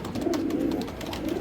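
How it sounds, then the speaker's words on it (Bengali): Beji pigeons, a father and son pair, give a low, rolling coo close by, one steady call lasting the whole moment. "দুইটাই বেজি কবুতর"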